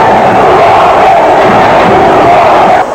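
Broad, steady roar of a large football crowd at Mineirão stadium, a dense wall of massed voices cheering and chanting in support of the goalkeeper, loud and continuous throughout before dipping slightly at the end.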